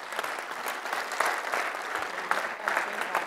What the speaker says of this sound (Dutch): Mag je een applaus voor de drie partijen?